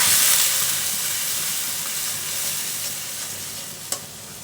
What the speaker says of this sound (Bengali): এখন ভালো করে মশলাটাকে কষিয়ে নেব